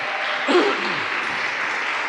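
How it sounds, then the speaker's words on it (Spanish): Brief congregational applause in a church service, a dense, even patter of many hands clapping at moderate loudness with a faint voice rising briefly through it. "Dale fuerte el aplauso a papá"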